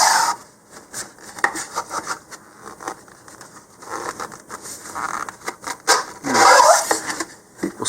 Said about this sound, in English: take a thumbnail here to the inside of the body tube and just kind of chamfer that outward a little bit